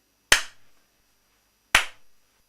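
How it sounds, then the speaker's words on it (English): Two sharp, isolated hand claps about a second and a half apart, crisp and close, each followed by a quick short decay in an otherwise quiet room. "then clap again, making sure your hands are in the same position"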